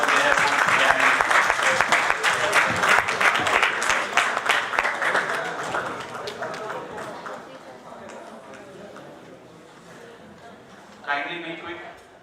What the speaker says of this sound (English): I would request everyone to give a big round of applause for the all hard work they have put behind it.